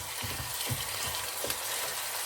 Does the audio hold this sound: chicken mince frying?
yes